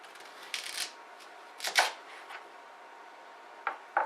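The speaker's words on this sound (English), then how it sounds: "we're going to cut the ends off this again" A knife trims the ends off a raw parsnip on a board, giving a few short, crisp cuts and taps spaced irregularly, close and moderately quiet.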